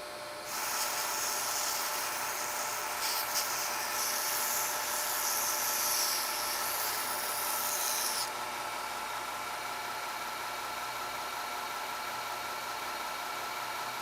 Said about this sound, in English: it's back to the belt grinder to put the final contours on these handles